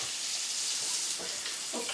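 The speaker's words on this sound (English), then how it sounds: "we'll fry our one onion that we got there chopped up" Chopped onion with a pinch of black pepper fries in a pan for a traditional Newfoundland cod stew, giving a continuous close sizzle with soft crackling bursts and no speech.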